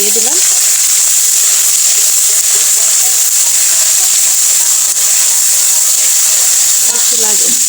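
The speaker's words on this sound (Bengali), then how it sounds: "এটা আমি এখন ভাজা ভাজা করবো" Ginger-garlic paste with a little salt fries in a pan for a duck curry, giving a loud, steady hiss that never lets up, with some faint scraping and no clear speech.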